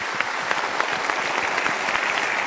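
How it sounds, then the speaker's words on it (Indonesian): A seminar audience gives dense, steady applause, close and sustained for a couple of seconds. "So kita berikan tepuk tangan untuk mereka."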